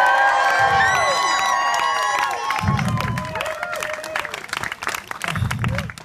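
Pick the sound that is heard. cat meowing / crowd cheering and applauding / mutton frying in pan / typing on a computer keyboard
crowd cheering and applauding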